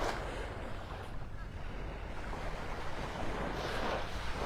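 Steady broadband surf of ocean waves washing onto the beach by the Naples Pier in Old Naples, Florida, with wind rushing across the microphone, continuous and moderately loud.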